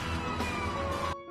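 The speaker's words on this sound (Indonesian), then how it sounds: "Saat itu sirine berbunyi di kantor damkar." A siren sounds at a fire station in a drama, a loud wailing tone with steady harmonics that holds for about a second and then cuts off abruptly.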